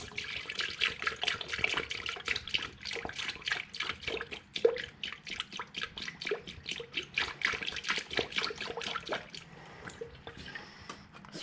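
Coolant glugs unevenly into the radiator of a Jeep Wrangler, a close series of irregular splashing pulses that tapers off toward the end.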